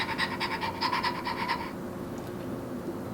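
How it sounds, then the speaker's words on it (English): A Cabbage Patch Kids adoptable toy pet dog gives a rapid electronic panting and breathing sound with short yips for about a second and a half, then falls quiet into soft background hiss. "So you'll hear her barking"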